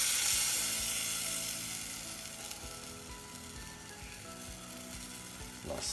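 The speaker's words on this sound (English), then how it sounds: "turn the heat back on, and whack in some cream" Cream poured into a hot pan hisses and sizzles loudly at first, then settles into a steady frying crackle with occasional stirring scrapes, alone with no talk.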